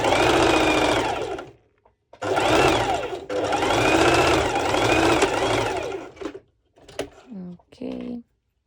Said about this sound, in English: going to do a straight stitch over about practically 1 centimeter away, like this.